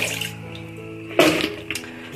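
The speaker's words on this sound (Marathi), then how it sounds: "तर अशा प्रकारे आपण हे चिप्स चांगले स्वच्छ धुवायचे" Sliced potatoes for homemade chips are swished and rinsed by hand in water, with splashing surges and dripping sounds against a low background hum.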